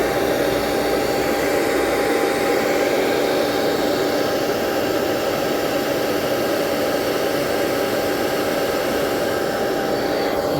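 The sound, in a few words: hairdryer blowing to melt glue on panel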